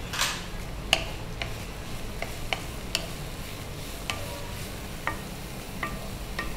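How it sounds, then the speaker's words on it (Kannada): Capsicum frying in a pan for a sandwich filling, a steady soft sizzle broken by sharp clicks and taps of a spatula stirring against the pan, close up with no talking. "ಈಗ ಸ್ವಲ್ಪ ಫ್ರೈ ಆಗ್ತಾ ಬಂತು, ಕ್ಯಾಪ್ಸಿಕಮ್ ಆ್ಯಡ್ ಮಾಡೋದು"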